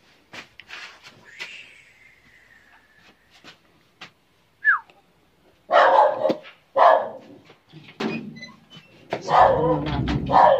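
A dog barks several times at close range, sharp loud barks spaced irregularly with a short yelp and quieter sounds between.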